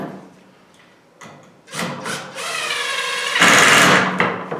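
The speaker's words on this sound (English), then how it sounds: "pre-drill and then put the screw right in." A screw is driven into a pre-drilled wooden folding-table leg, a rising whirring drill burst that grows louder and holds steady for a few seconds, with a quieter tap and short buzz before it.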